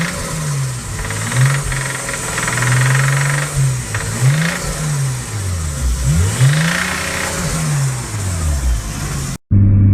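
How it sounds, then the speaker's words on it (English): A Nissan R32 Skyline's blown RB20 engine revs up and down repeatedly, with a rough, knocking rattle beneath the loud, close exhaust note before it cuts off abruptly. "and then the knock of the RB20"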